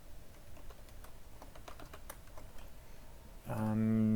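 Faint, rapid keystrokes on a computer keyboard patter steadily while commands are typed into a terminal, then a loud sustained tone cuts in near the end.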